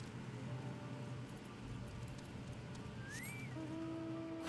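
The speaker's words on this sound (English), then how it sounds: "Oh, it's still raining." Rain falls in Final Fantasy XIV Endwalker as a soft, steady patter, quiet and continuous under faint game music tones and a few small chimes.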